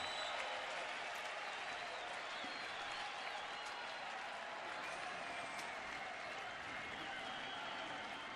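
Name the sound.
baseball crowd cheering for pitcher Carrasco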